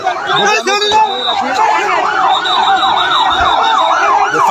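A loud, wailing fire engine siren rising and falling repeatedly, close by, at a market fire in Noakhali, Bangladesh, with traffic noise and a voice underneath.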